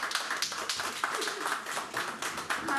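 Audience applause at a depression and mental health awareness conference, a steady patter of many hands clapping across the whole stretch with no voices over it.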